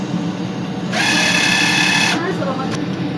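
A DTF printer runs a nozzle check after a head clean, whirring and buzzing for about a second, then stopping, with a few short mechanical chirps and clicks afterward; a voice speaks faintly in the background.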